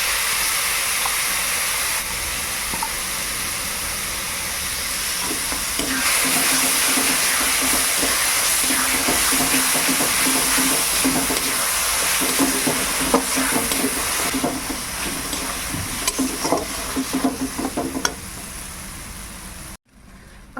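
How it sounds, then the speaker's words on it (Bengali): Elephant apple (chalta) paste sizzles steadily in a pan over fried ginger and mustard-seed tempering, with the close scrape and rustle of stirring running throughout before a sudden stop; no one speaks. "এরপর আমি দেব চালতার পেস্টটা যেটা আমি মিক্সিতে বেটে নিয়েছি"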